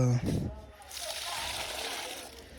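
Water splashes and trickles steadily from a hose or pail onto dry potted plants and a growing vine along a wall and railing, a close, continuous wet spatter after a brief voice at the start.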